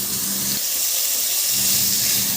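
Garlic, ginger and then onion sautéing in hot oil in a pan for a simple chicken dish give a steady, close hiss and sizzle, with no talk over it.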